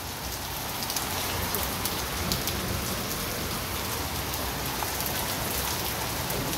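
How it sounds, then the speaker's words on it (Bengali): Heavy rain mixed with hail pours down outdoors beside a courtyard, a dense, constant roar of drops and pellets striking surfaces at close range with no letup and no voices. "বাইরে দু একটা কাজ ছিল, সেগুলো সারতে সারতেই বৃষ্টি শুরু হলো। আর বৃষ্টি মানে শিলা বৃষ্টি।"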